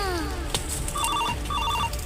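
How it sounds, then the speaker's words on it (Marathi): A telephone rings in two short bursts of electronic trilling, clear and close, over a steady background hum. "या टायमात कोणाचं फोन आला"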